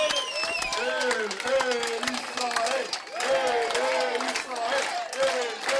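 A stadium crowd at a rugby sevens match applauds the Israeli team, a steady patter of distant clapping that runs throughout beneath someone commentator's continuous talk.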